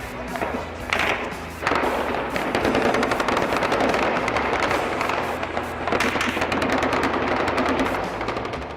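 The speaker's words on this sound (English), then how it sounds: "Soldiers were exchanging fire with some men in the building on the right." A shootout in downtown Baghdad between soldiers and gunmen in a building, with sustained loud bursts of automatic gunfire and rapid overlapping shots that continue almost without pause, and faint voices briefly audible.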